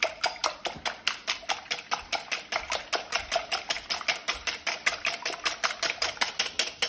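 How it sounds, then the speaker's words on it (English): Three eggs whisked by hand in a bowl give a rapid, steady, even rhythm of close, bright clicks against the bowl's side, continuing without pause. "Crack 3 eggs into a bowl and whisk it until it's a mousse."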